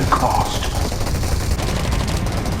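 Dense, continuous gunfire from the video game Garena Undawn, with overlapping shots forming a steady loud barrage and no pauses. No one speaks.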